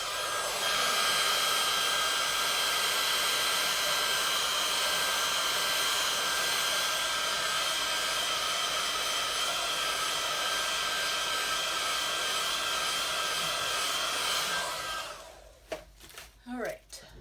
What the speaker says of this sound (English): I'm gonna give it one more quick zap with the heat gun